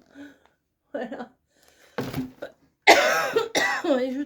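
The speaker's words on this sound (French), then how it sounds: "Et je tousse." A few short bursts of coughing and throat clearing come close to the microphone, separated by pauses, followed by louder vocal sounds.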